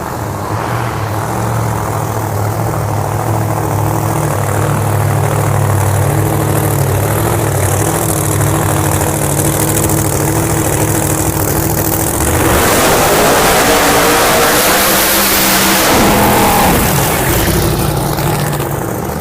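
Loud PDRA drag racing cars approaching at VMP, a steady engine roar that builds and shifts in pitch partway through, with no talk.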